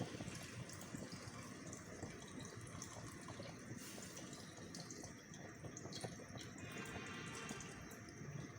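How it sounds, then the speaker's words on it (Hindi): Mutton yakhni broth pours steadily into a pulao pot, a continuous close liquid gush and splash running throughout with no talking. "मैं सिर्फ यखनी इसमें डालूँगी"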